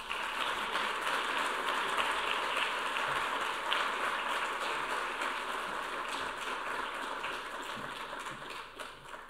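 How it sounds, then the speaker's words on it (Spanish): Sustained audience applause at a university essay contest award ceremony, a dense steady wash of many hands clapping that stays loud throughout and eases slightly toward the end. "les quiero pedir un fuerte abrazo y un fuerte aplauso"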